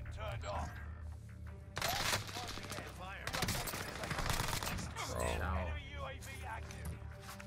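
Gunfire in Warzone Rebirth Island, a weapon tap-fired in short single bursts, crackles through the clip in repeated loud pops mixed with other shots, under steady talking voices.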